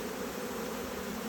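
A honeybee swarm funnelling into a nuc box makes a steady, dense buzzing hum, close and even throughout the short stretch.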